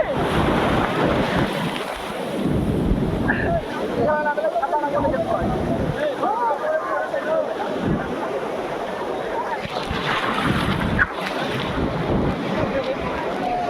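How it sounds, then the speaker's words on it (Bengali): Rough sea surf at Digha beach crashes and roars continuously, a dense wash of breaking waves with wind buffeting the microphone while people talk over it. "সমুদ্রের ভয়ানক ভয়ানক ঢেউ"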